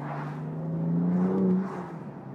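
A BMW M2 exhaust drones steadily while driving, swelling slightly louder midway before easing back, heard alone without talk.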